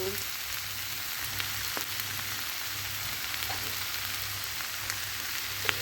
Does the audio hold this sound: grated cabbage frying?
yes